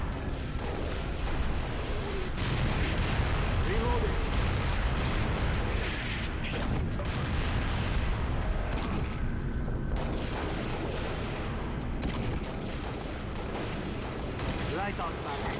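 An artillery barrage in Halo Reach, heavy booming shell impacts and explosions rolling continuously under a dense, loud layer of game battle noise, with rumbling low blasts across the whole stretch and some voices in the mix.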